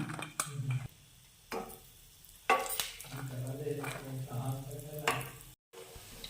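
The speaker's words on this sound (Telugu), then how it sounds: "2 వైపులా మంచిగా కాల్చుకోవాలి నూనెలో." Sun-dried ash gourd and lentil vadiyalu frying in hot oil, a soft steady sizzle broken by sharp taps of a utensil against the pan, with someone talking over it.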